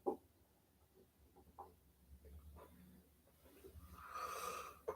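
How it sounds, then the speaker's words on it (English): A person yawns, a drawn-out breathy exhale that swells near the end after quiet breaths and small mouth noises, faint and close to the microphone. "sorry, I'm yawning"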